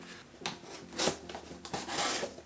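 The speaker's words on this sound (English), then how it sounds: "it's time to open up this camera, also with trusty pocket knife that was also a gift to me" A pocket knife slices and tears through the packaging of a new Sony camera box, a close series of short scraping and ripping strokes with brief pauses between them.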